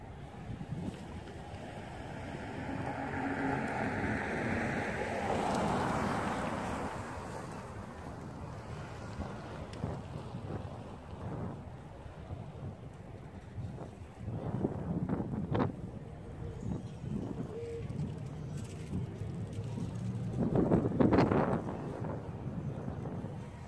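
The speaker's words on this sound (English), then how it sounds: "Pretty windy out here." Steady wind rushes and buffets the microphone, with gusts swelling now and then over the low hum of a small FPV quadcopter and occasional whooshes.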